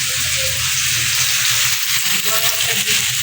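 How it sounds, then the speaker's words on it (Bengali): Potatoes frying in oil in a home kitchen pan, a loud, close, continuous sizzle with occasional stirring scrapes running throughout. "আলু দিয়ে করবো তাই আলুটা ভেজে নিচ্ছি"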